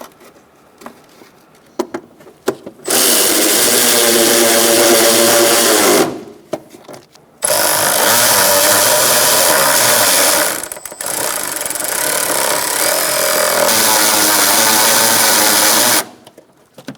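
A power tool drives bolts into a 2004-2009 Mazda 3 AC condenser in three loud whirring bursts, each a few seconds long with a rising whine, separated by short pauses and faint handling noise.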